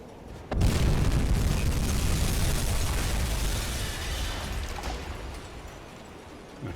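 A T5 torpedo slams into a ship in the submarine game UBOAT, setting off a heavy booming explosion that roars up suddenly and rumbles on for several seconds as it slowly fades.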